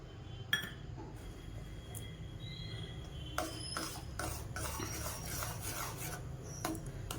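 Rice payasam being stirred after a little orange-yellow colour powder is added, a soft continuous scraping and rubbing of a spoon in the pot with a few light clinks, steady and close, without talk.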